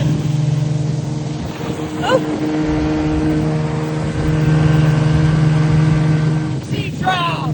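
An Evinrude outboard motor with a fault and milky lower unit runs on a sea trial, a loud steady low drone close by, while people shout and exclaim over it.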